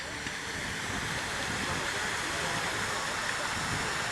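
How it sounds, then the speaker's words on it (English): Continuous rushing of flowing water at a small resort water park, an even hiss like a small cascade, with faint voices blending into the background. "We're at the little water park on the resort site."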